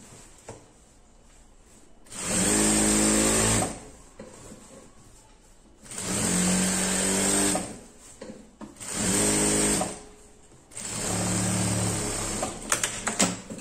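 A sewing machine stitches a seam to close a denim jeans skirt, running in four steady, loud mechanical bursts of about one to two seconds each, separated by quiet pauses and small handling noises.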